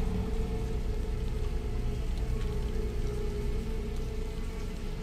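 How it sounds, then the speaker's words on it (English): Steady rain patter in the video game The Callisto Protocol, with a constant low rumble underneath, continuous and even throughout, with no voices. "Rain drops, yeah."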